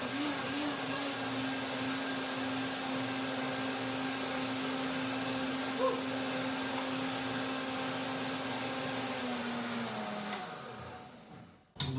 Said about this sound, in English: Blender dance number 2.